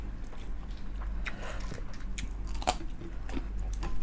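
Crunchy bites into crispy fried chicken skin during a Filipino mukbang, several sharp crackling crunches followed by close chewing, with no talking.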